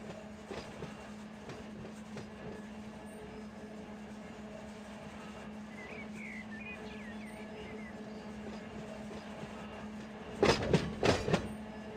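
A single SD45 diesel locomotive in the Run8 train simulator rumbles steadily with a low engine drone, and a cluster of louder clanks and squeals comes near the end.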